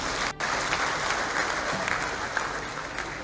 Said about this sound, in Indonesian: Tepuk tangan untuk PKS.